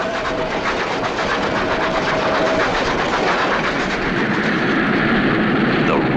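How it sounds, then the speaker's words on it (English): Passing train in the mid-1800s American railroad era: a continuous rushing roar with rhythmic clickety-clack of wheels over rail joints, heard fairly close and steady, with a brief whistle-like tone early on and no talking. "The rush and roar of a passing train filled spectators with awe and wonder."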